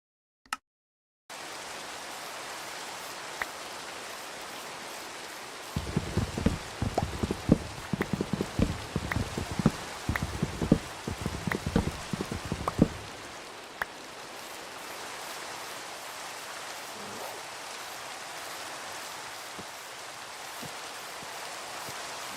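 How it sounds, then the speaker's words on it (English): Steady rain falls in the video game Minecraft as a continuous soft hiss, with a denser patter of drops in the middle stretch and no talking. "Hope you guys are enjoying the rain sounds. Something Minecraft rain to fall asleep to."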